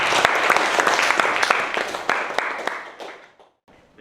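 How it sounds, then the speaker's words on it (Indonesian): A classroom full of students applauds in a burst of steady clapping that gradually thins out and fades to a few scattered claps. "Kita tepuk tangan untuk kita semua."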